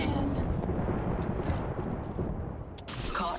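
Frag grenade blast in a shooter video game, a sustained rumbling roar of debris and noise filling the whole stretch, loud and dense without a distinct single crack.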